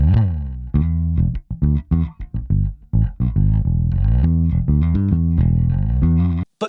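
Electric bass guitar notes with fingers sliding along the strings, producing gliding pitch changes among a quick run of plucked notes, close and clear with no talking.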